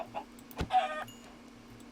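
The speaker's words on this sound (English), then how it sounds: "Chickens." Minecraft chickens in an Ultra Hardcore match, a few short clucks and a squawk over quiet game ambience, moderately near with no talking.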